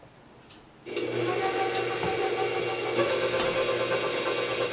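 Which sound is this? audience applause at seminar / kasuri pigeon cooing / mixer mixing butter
mixer mixing butter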